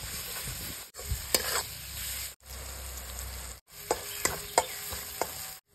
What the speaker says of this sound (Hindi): अब इन सभी मसालों को अच्छे से भून लेंगे।